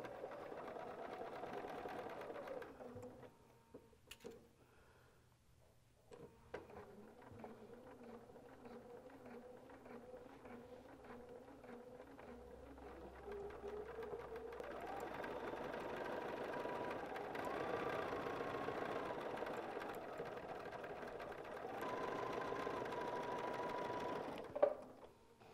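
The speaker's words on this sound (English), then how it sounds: "Just going to take a couple little back stitches right there" A sewing machine stitches quilt fabric, taking a couple of small back stitches: a soft, fast, buzzing run that stops and starts in bursts, close and fairly quiet.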